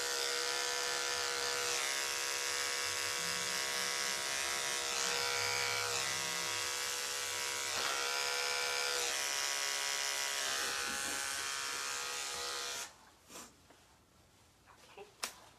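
Electric dog grooming clippers fitted with a 40 blade buzz continuously at close range with shifting pitch as they work, then cut off near the end, leaving soft handling noises.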